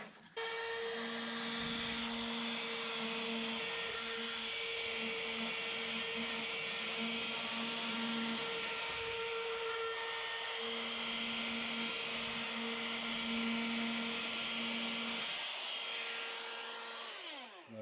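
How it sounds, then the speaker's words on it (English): A router runs continuously while cutting a door slab, a loud, steady high-pitched whine with a constant motor hum that stays close and even, winding down at the very end. "And then all you do, you put your router in that section there, and you turn it on."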